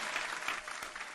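A short, faint burst of crowd clapping, a quick round of applause heard alone without talk.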